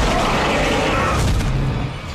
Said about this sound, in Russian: Понятно, для чего вот эти взрывающиеся батареи здесь были размещены.